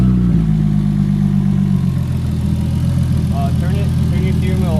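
A Toyota Crown with a big-turbo 2JZ engine fires up and settles into a loud, close, lumpy idle that runs unbroken.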